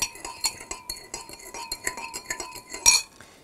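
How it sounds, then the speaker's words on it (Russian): A metal spoon clinks repeatedly against a bowl in quick, uneven strokes, close and fairly quiet, with brief scraping between taps. "размешиваем тщательно"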